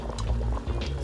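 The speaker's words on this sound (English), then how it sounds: "when it's on a boil, then you're just going to drop your dumplings, spoonful" Spoonfuls of dumpling dough dropped into a boiling chicken mixture, a brief liquid bubbling and plopping close up, with no talking.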